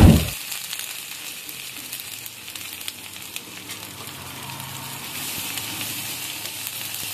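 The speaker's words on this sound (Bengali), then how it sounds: "আদা আর রসুন একটু আমি ভেজে নিচ্ছি।" Whole cumin, grated garlic and grated ginger frying in hot oil, a steady close hiss and sizzle that carries on throughout after a brief clatter at the start, with no talking.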